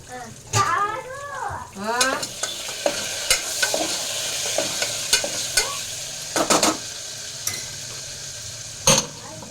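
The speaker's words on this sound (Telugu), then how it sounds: "ఈ లోపు అయితే పోపు ఫ్రై అవుతూ ఉంది" Curry leaves and dried chillies tempering in hot oil in a pan, a loud close sizzle with sharp spatters and clinks of a spoon stirring, a voice speaking briefly at the start.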